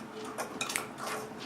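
A spoon scrapes and clinks against a bowl while cookie dough is stirred as flour is added, a few light irregular taps and scrapes, close and quiet.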